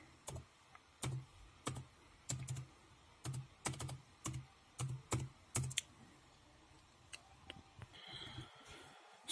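Keys tapped one at a time on a computer keyboard while a password is entered, a steady run of close, crisp clicks with short pauses between them, then a few scattered taps near the end.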